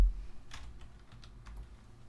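Quiet keystrokes on a computer keyboard, a handful of separate clicks spaced irregularly over a low steady hum, with no voices.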